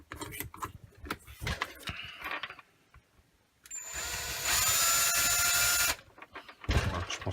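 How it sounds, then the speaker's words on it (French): Drill fitted with a 5 mm bit, heard as a steady whine of about two seconds with a rising pitch, set between stretches of clattering handling noise and quiet. "Bon, on va devoir passer à 5, je pense. Voilà, donc une mèche de 5."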